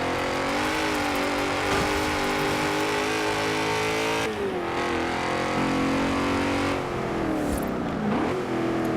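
Car engine in Forza Horizon 4 revving hard through a wheel spin, a loud sustained roar whose pitch rises and drops with gear changes, with a brief tire squeal near the end.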